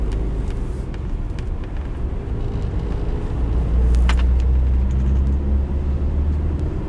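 Suzuki Jimny 1.3 GLX three-door with a five-speed manual gearbox, heard from inside as it drives: a steady low engine and road rumble that swells slightly louder partway through, with no talking.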